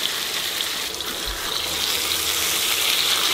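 Canned food hitting a hot wok sets off a loud, steady sizzle and hiss that fills the whole moment close up, with no one speaking.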